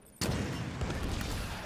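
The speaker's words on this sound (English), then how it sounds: "Explosions!" A sudden burst of video game explosions erupts after a brief quiet, then continues as a dense, loud barrage of booms and gunfire-like crackle for over a second, with no speech.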